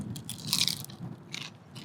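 Crunchy lumpia eggroll, a small fried Filipino spring roll, bitten and chewed with loud, close crackling crunches in several bursts, no talking.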